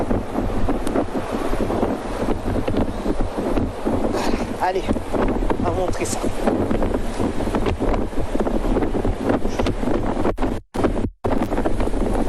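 Strong wind from Tropical Storm Ernesto in Guadeloupe roars and buffets a microphone continuously, with someone talking over the gusts and the rush of sea water nearby.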